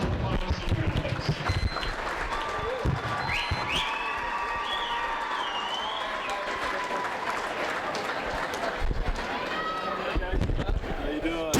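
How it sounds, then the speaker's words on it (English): A gym crowd at a Hermiston vs Pendleton basketball game gives a sustained round of applause and cheering for five senior athletes, loud and steady throughout, with voices and shouts mixed in. "let's give a big hand and round of applause to the 5 senior athletes"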